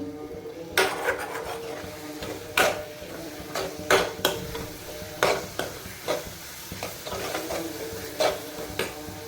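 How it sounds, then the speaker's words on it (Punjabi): A spoon stirs besan curry in a pan with repeated scraping strokes at an uneven rhythm, accompanied by a soft sizzle. "ਬੇਸਣ ਪਾ ਕੇ ਨਾ 10 ਮਿੰਟ ਤੁਸੀਂ ਹਲਾਉਂਦੇ ਜਾਓ"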